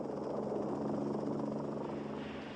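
A Lockheed Model 286 five-seat utility helicopter flies overhead, a steady dense rotor and engine roar with rapid blade chop, loud and unbroken throughout.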